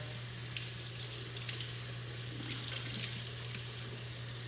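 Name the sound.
rinsing cucumbers for pickles under running tap water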